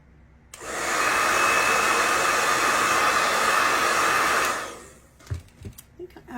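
A hair dryer blows close and loud onto fresh paint on a rustic wooden sled, with a steady whoosh for about four seconds before it switches off and a few soft handling knocks follow.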